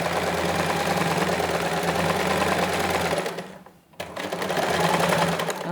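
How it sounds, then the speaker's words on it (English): A sewing machine runs steadily, stitching a half-inch seam allowance on a woman's trouser. It whirs close and loud, pauses briefly, then resumes. "I will take to my sewing machine and just sew half an inch seam allowance"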